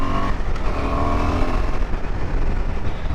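A KTM Adventure 390 X motorcycle accelerating hard, its engine a loud, steady, close roar that pulls continuously without a break.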